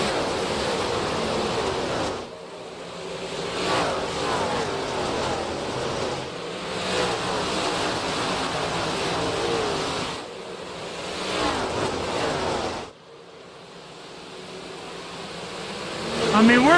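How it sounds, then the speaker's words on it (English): Race car engines roar together as the field takes the green flag on a Thursday night stock car race, a loud, dense wash of motors rising and falling in waves as the pack passes, with no clear talk over it. "Let's hear the motors purr."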